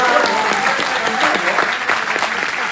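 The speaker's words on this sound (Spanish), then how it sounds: "Aplausos, ¿no?" Audience applause at a talk about UFOs, a steady, loud burst of clapping from a crowd filling the whole moment without break.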